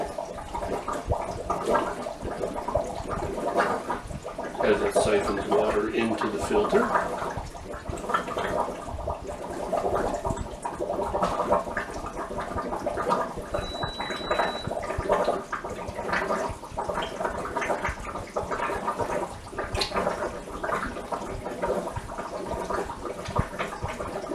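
Continuous bubbling, gurgling water as air is pushed out of a Fluval 406 aquarium canister filter, steady and fairly close throughout, with no voices.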